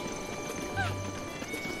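Horse in Zelda: Breath of the Wild, a faint snort or whinny over a steady low game ambience with soft hoof-like thuds, quiet and brief.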